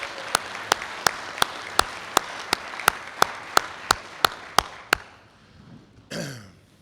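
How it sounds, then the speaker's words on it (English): An audience at an Alcoholics Anonymous unity conference in Columbia, Mississippi claps for the convention committee in a steady, evenly spaced rhythm of about fourteen crisp claps in a reverberant hall, then stops, and a throat is cleared. "We need to give a big round of applause to the convention committee."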